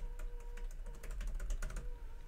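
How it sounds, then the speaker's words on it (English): Quick, irregular clicking of keys being typed on a computer keyboard, soft and close, with no voices. "I'm typing it out so you can cut and paste it"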